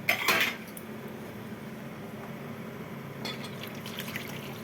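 Boiled mutton and water poured out of a pressure cooker: a metallic clank of the pot at the start, then a steady soft splashing pour that swells briefly near the end.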